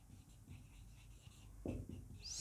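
Chalk or marker scratching out a question on a classroom board, soft irregular strokes close by and fairly faint, with brief taps between strokes and no talk.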